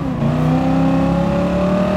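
A V8 Mustang race car engine in Gran Turismo Sport revs high and steady, its strong layered drone climbing slightly in pitch as it holds near the top of its range, loud and close, with no voices.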